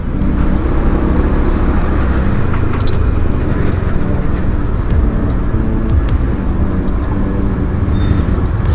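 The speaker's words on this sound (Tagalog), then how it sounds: "Marami pa ring sasakyan." Dense traffic in the Naga City centre, Camarines Sur, heard from a motorbike as a continuous loud roar of engines and tyres, with scattered short clicks and passing-vehicle noises throughout and no talking.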